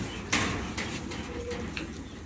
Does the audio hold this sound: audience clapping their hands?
no